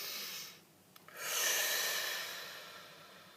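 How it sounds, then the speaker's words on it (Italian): One slow, deep breath taken close to the microphone, a long hissing inhale followed by a gradual fading exhale, breathy and unhurried with no talking. "facciamo un bel respiro profondo"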